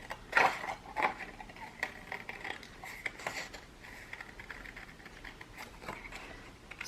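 Scissors cutting paper for a shabby chic junk journal, a close series of crisp, irregular snips and rustles, sharper near the start and softer as the cutting continues.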